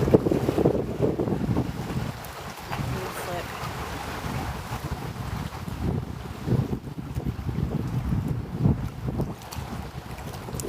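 Steady wind gusting across an open bay, with buffeting rumble against the microphone and a constant low roar throughout, no voices heard.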